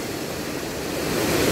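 Broad, continuous rushing of water pours heavily and evenly over Eachambadi Dam, a dense roar with no voices.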